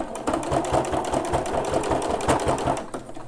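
A domestic sewing machine stitches steadily along a bra underwire casing seam, its fast rhythmic needle chatter loud and close, pausing briefly mid-run before resuming, with no talk.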